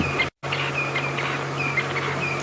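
Thin, high bird calls repeat faintly in the bush at Djuma Game Reserve, where a francolin and canaries are calling, over a steady low engine hum from a safari vehicle.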